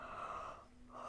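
Someone yawns while stretching with arms behind the head during a Kundalini yoga session, a faint, breathy drawn-out exhale that fades briefly and swells again.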